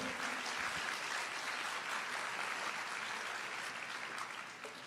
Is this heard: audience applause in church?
yes